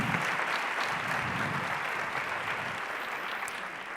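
An audience claps steadily through a talk on the neuroscience of emotions, dense and even applause filling the room at moderate volume.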